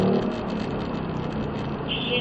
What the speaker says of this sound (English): Downshifting.